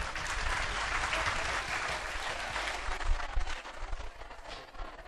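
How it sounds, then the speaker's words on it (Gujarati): An audience at a seminar hall breaks into loud, sustained applause, a dense roar of clapping that swells and then thins into scattered claps near the end. "ખૂબ ખૂબ તાળીઓથી વધાવશો."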